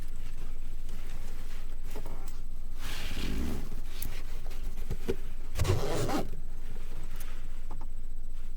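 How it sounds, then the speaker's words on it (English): A luggage zipper is pulled in two distinct rasping runs, close and crisp against a quiet background, with softer fabric handling and small clicks between them. "So I'll give you a few more zipper sounds before I go."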